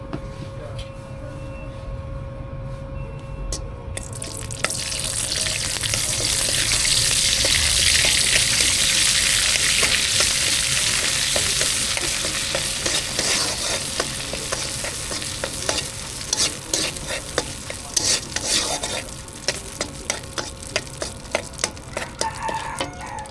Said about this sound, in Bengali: ডালটা আমার তেলে দেওয়া হয়ে গেছে, এবার আমি নামায় নিব।